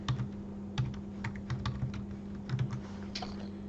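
A caption is typed on a computer keyboard, with light, irregular key clicks in short bursts and a steady low electrical hum underneath.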